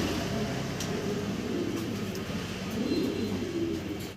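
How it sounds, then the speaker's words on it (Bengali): Restless, flying-breed fancy pigeons stirring in a cage coo in low, overlapping murmurs over a steady background rumble, close and moderately loud throughout. "খুব চঞ্চল কবুতরগুলো দেখতে পারতেছেন"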